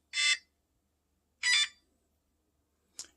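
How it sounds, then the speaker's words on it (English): An electronic beep sounds three times as a device arms, spaced about a second or more apart, the last one shorter; near and clear against silence. "You guys heard that beep."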